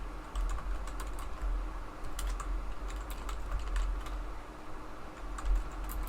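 Fast typing on a computer keyboard, close and fairly quiet, with irregular bursts of clicking keystrokes over a low background hum and no talking.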